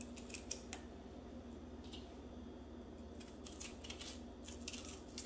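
Knife trimming the white pith out of a bell pepper, faint crisp snips and clicks in a quiet kitchen, a few light irregular cuts close by.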